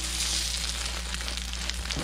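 Egg on bread sizzling steadily in a frying pan, a close, even crackle of frying with a faint scrape near the end.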